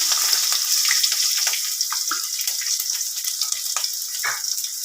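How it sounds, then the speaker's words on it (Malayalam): Garlic frying in hot oil with popped mustard seeds, a bright, close, crackling sizzle with scattered small pops and light clinks. "കടുക് പൊട്ടി വന്നിട്ട് നമുക്ക് നമ്മുടെ വെളുത്തുള്ളി ഇട്ട് കൊടുക്കാം"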